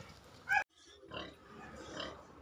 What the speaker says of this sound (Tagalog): ay ang mga native pigs